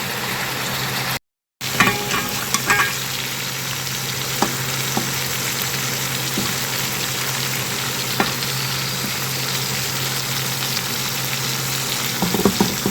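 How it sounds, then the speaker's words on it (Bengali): Vegetables and fish cook in oil in a pan with a loud, continuous sizzle and bubbling that runs the whole time, with occasional stirring clinks. A brief dropout comes near the start. "এই তেলের মধ্যে আমি সবজিগুলো সিদ্ধ করে নেব। আর মাছ অল্প ভেজে নিলেই চলবে।"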